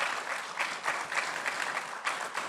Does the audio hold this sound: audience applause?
yes